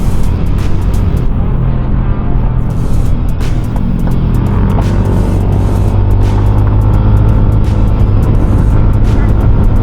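Yamaha Aerox SP V3 scooter engine braking on an uphill, twisting road, giving a loud, steady low engine drone with wind rush close to the rider, with talk over it.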